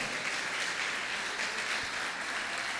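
A church congregation claps during a sermon, a dense, continuous roar of applause filling the room at an even, fairly loud level with no pauses.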